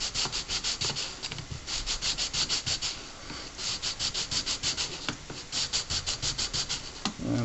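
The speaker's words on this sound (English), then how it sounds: "a little touch-up sanding." Rhythmic back-and-forth strokes of sandpaper rubbing by hand on the back of a wooden pendant, quick and evenly paced, close up with brief pauses between bursts.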